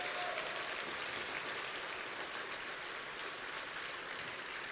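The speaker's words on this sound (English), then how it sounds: "can we just give James a humongous round of applause?" A conference audience gives a speaker a round of applause, heard as dense, even clapping that fills the whole stretch like steady rain, with no voices over it.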